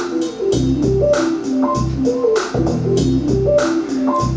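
A funk composition built from a drum and bass groove with pad sounds, looping steadily with punchy low thumps and a bouncing synth-like line, loud and continuous with no voices.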